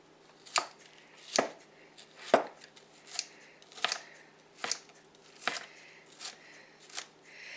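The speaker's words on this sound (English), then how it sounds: "Then I'm going to chop these up a little too." Cooked breakfast ingredients are chopped with a knife on a board: about nine crisp, close chops in a fairly even rhythm, each with a short thud, against quiet surroundings.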